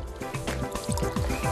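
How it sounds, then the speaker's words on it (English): Water is poured over chopped wild carp fillet in a bowl to rinse it, a close gurgling splash and trickle with small drips that carries on for a moment. "Now let's pour some water here, wash it, and pour out the water."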